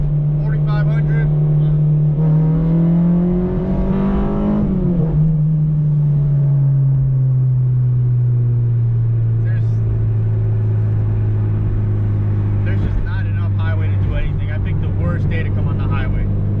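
A car pulls hard in third gear on a highway after its brake pads are bedded in. The loud engine note climbs steadily, then drops and settles into a lower, steady drone as road rumble continues.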